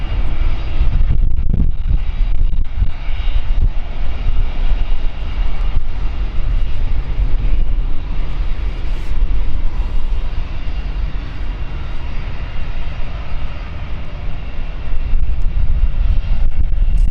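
A Cessna light aircraft climbs steeply after takeoff at London City Airport, its engine a steady, loud drone that holds throughout with no voices.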